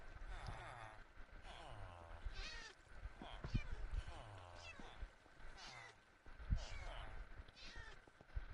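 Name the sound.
cat meowing in the video game Minecraft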